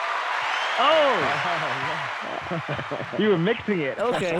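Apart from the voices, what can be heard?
applause sound effect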